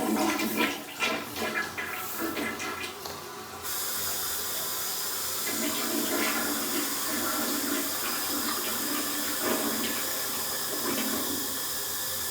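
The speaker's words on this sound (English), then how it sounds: "Let me flush the toilet." A toilet flushes in an Embassy Suites by Hilton hotel room with a loud rush of water that settles into a steady hiss of refilling, close by and with no talking.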